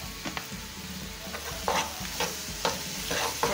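Curry seasoning and onions sizzle in hot oil on a low stove, a soft continuous fry punctuated by scraping stirs and clinks of a utensil.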